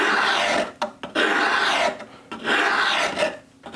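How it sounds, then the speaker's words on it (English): Wood filed with a 15 grain modeler's rasp while shaping a paper towel holder: three long, close, coarse rasping strokes with short pauses between, no voices. "I'll step down to my 15 grain modeler's rasp."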